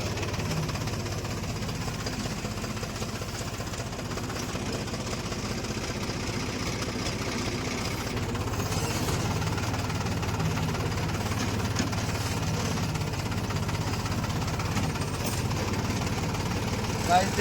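A Mahindra mini tractor engine idles in a steady, loud, low rumble with a faint knocking rattle, while someone talks over it.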